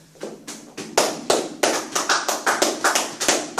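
A church congregation claps along in a steady, even rhythm: a run of sharp, close hand claps spaced roughly a third of a second apart, loud and continuous with no voices over them.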